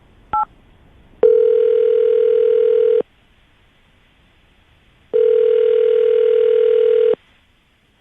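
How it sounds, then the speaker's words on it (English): Telephone call placed live on a morning radio show: a brief burst of dialing tones, then two long, loud steady ringback tones separated by silence. "all right, Aaron, we're going to call her right now, see if we can get her on the phone"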